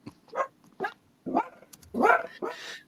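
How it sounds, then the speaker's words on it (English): A dog barks several times in short bursts, moderately close, mixed with muffled voices during a casual livestream at home. "Tell that dog to pipe down"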